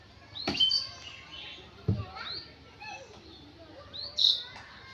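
Birds chirp in a park, with scattered short tweets and calls from several directions, some close and sharp, a few faint, over quiet outdoor background and soft distant sounds.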